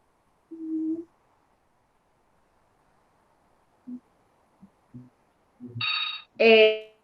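A telephone gives short electronic rings, two clear bursts near the end after sparse faint tones, during an online class with quiet surroundings.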